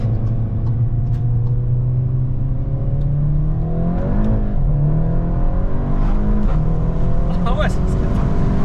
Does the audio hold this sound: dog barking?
no